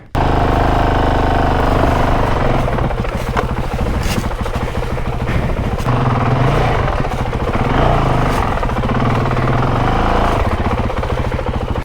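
A 2023 Honda CRF450X dirt bike engine idles steadily up close after single-track riding, a continuous loud throbbing drone with no talking.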